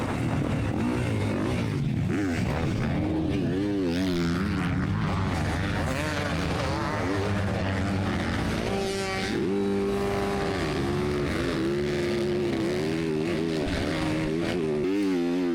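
A pack of 450 class motocross bikes roaring off the start at a Dade City motocross race, loud overlapping engine revs rising and falling as riders shift, with no talking.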